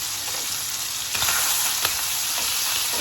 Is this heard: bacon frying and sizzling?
yes